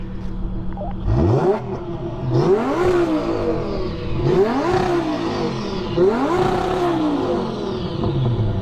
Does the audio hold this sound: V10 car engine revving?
yes